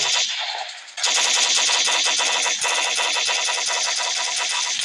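Rapid automatic gunfire in Minecraft in a fast, continuous burst that starts abruptly after a short engine-like hum and stays loud and close throughout.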